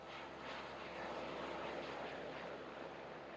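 A helicopter lifting cables onto towers across a gorge drones steadily in the distance, a broad, even engine-and-rotor roar with no talk over it.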